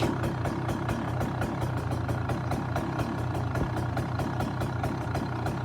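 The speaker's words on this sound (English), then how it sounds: "And it's idling, choke on right now." A KTM two-stroke dirt bike engine idles steadily with the choke on, a rapid, even putter, close and continuous, with no voices.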